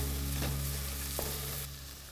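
Corn kernels tipped into frying masala for a corn and moong dal tadka, a close, loud sizzle with a couple of sharp clinks, easing slightly toward the end.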